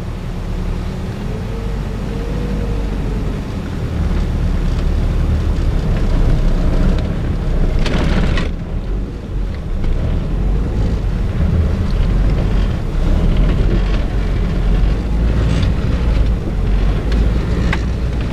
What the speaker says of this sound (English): The chains are on. I'll just drive in slow, sort of like I did without the chains.